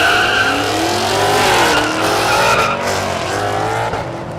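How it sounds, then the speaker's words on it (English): A Mustang drag car launches at Thunder Valley in Noble, Oklahoma, hazing its tires in a loud, sustained roar of engine and squealing rubber that stays dense and close for several seconds before easing slightly. "Mustang hazes the tires for about 100 feet, and then he's away."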